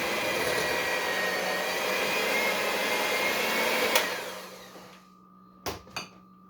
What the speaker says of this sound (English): as you blend the cream cheese, that will actually start to come out of the mixer